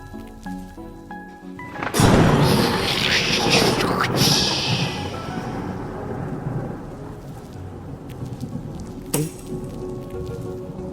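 A loud thunderclap bursts in suddenly, then rolls on as a sustained rumble over steady rain, with another sharp crack later; it serves as a storm effect for lightning crackling in clouds above a sea.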